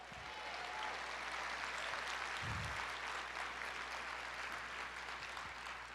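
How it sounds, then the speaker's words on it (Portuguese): Church congregation applauding steadily during a Portuguese-language sermon, a dense even wash of clapping heard at moderate distance, with a couple of low thumps underneath. "Aplauda o Senhor"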